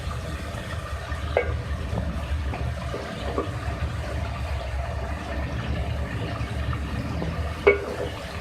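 Mutton frying in a pan with ginger garlic paste makes a steady, close sizzle, with scattered clinks and scrapes of stirring and no talking.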